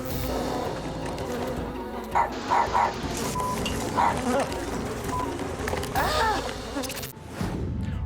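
Upset bees swarming around an uncooperative hive during a pest relocation job, a dense close buzzing with louder passes, mixed with voices and a dog barking.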